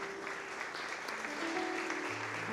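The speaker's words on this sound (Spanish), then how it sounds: "Alguien tiene que celebrar eso con un lindo aplauso." A church congregation breaks into full, sustained applause during a sermon while sustained keyboard tones ring underneath.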